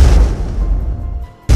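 A loud, deep explosion rumbles through an airliner cabin as a sound effect for the Japan Airlines flight 123 decompression, decaying for over a second before a second heavy blast hits.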